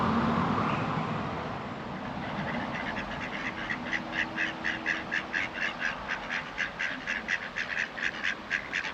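Ducks at Ashford in the Water in Derbyshire quack in a quick rhythmic run, the calls close and repeated over a background of flowing water, with no voices.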